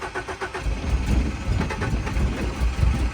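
A BMW E36 project car's engine runs rough and loud, a dense low rumble with uneven throttle blips rising and falling throughout, sounding cammed, with no talk over it.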